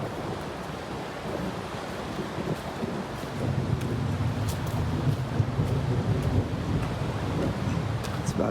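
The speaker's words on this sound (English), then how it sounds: "it is thundering" A low, rolling rumble of thunder in the Wallowa Mountains swells and lingers, mixed with steady wind and rain noise, fairly loud and continuous.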